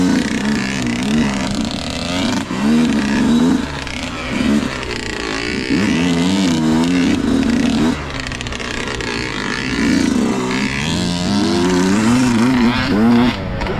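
Motorbike number 72 rides along a dirt single track, its engine revving and droning loudly and continuously with rising and falling pitch as it works through the course.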